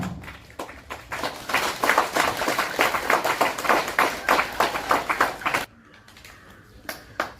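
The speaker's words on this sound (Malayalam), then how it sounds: "നല്ല കൈയടിച്ചുകൊണ്ട് നമുക്ക് അദ്ദേഹത്തെ അഭിവാദ്യം ചെയ്തുകൊണ്ട് ആദരിക്കാം" An audience claps steadily at a first anniversary celebration of a local unit, a dense loud round of applause that builds and holds, then cuts to a few scattered claps near the end.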